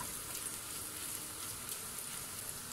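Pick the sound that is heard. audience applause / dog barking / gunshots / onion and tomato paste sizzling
onion and tomato paste sizzling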